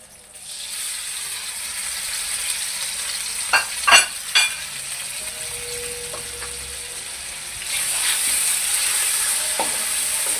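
Boneless chicken pieces fry in hot ghee in a pan with a steady sizzling hiss, a few knocks of stirring near the middle, and the sizzle swelling louder toward the end.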